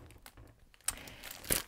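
Small transparent plastic envelopes handled during greeting-card making: quiet crinkling and rustling, with two sharper, louder crackles close to the mic near the end.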